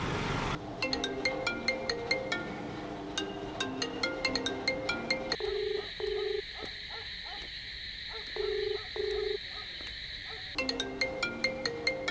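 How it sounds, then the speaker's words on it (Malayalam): A phone ringtone plays repeatedly in a looping electronic melody, fairly clear and continuous, with a stretch of different tones in the middle. "കുറെ നേരമല്ല ഫോൺ കിടന്നടിക്കണേ"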